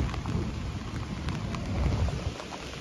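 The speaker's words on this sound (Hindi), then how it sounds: "बारिश ना बहुत ज्यादा हो रही है" Heavy rain pours during a thunderstorm in Kashmir, a dense, continuous roar of falling water with a low rumble beneath, steady and close throughout.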